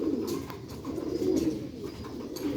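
Black-faced Sheikh pigeons coo nearby, a low soft rolling burble repeating steadily over a faint background hiss.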